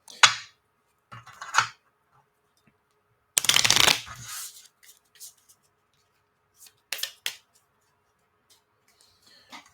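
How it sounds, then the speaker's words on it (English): A deck of game cards being shuffled at a tabletop, several short riffling bursts with one longer crisp shuffle in the middle, close and quiet with no talking. "we shuffle the discard back into the deck"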